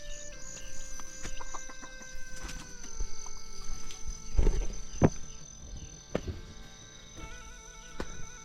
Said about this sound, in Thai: ไก่กับลูกไก่